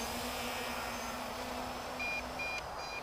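An MJX Bugs 3 Pro GPS drone controller gives several short, high electronic beeps in quick succession over a steady hum and background hiss, faint and close by.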